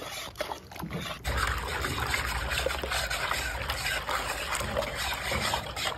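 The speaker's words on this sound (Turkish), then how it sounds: "Şimdi bulamacı iyice dağıtmaya çalışıyoruz." Grape slurry being stirred and whisked in a pot for traditional grape pestil, a steady wet sloshing and trickling churn that runs continuously and close up with no talk.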